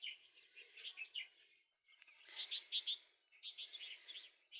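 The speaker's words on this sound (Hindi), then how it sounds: "लंबी दुम वाली चिड़िया मेरी फेवरेट आ गई है।" A long-tailed bird chirps in quick bright bursts, two or three rapid phrases of twittering notes with brief pauses between, fairly close and clear against a quiet background.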